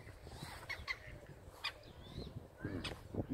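Hens cluck and call in short, scattered bursts over a low, busy background murmur, fairly close by.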